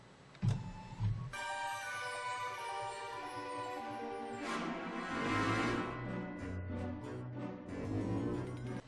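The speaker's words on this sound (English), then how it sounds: "the first stitch that we're going to do is a placement line for the batting" An embroidery machine stitches a placement line for quilt batting, giving a steady whirring mechanical drone with a rhythmic tonal hum, starting with a couple of clunks and running continuously at moderate, close level.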